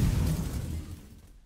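A weapon fires in the FTL spaceship video game: one harsh, crackling burst that hits hard and then trails off over about a second, with no talking.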